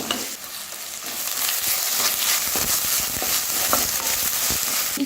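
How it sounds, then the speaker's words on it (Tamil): Ingredients frying and roasting in a pan, a loud, dense, continuous sizzle close up with intermittent stirring scrapes and light crackles. "இப்போ இது ஃப்ரை ஆகிட்டே நல்லா ரோஸ்ட் ஆகணும் அந்த அளவுக்கு நம்ம வந்து ஃப்ரை பண்ணணும்"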